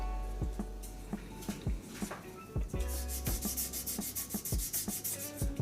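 Sanding pad rubbing over a turned resin and wood shaving brush handle in repeated strokes, each with a thump at its start and a rising scratchy hiss later, close and steady with no voices.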